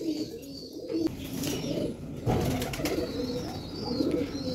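Domestic pigeons cooing in a small home aviary, soft repeated low coos blending into a busy near background of rustling and faint movement, with no talking.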